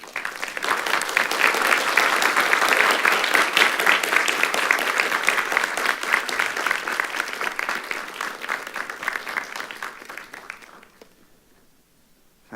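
A graduation audience at a Newcastle University congregation ceremony claps loudly and steadily for about ten seconds before the applause thins and dies away into near silence.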